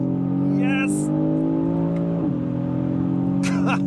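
A 2026 Aston Martin DBX S engine droning steadily under acceleration, its pitch dipping briefly at a paddle upshift, heard from inside the cabin with people talking over it.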